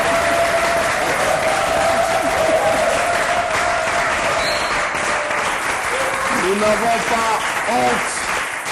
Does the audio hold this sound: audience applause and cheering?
yes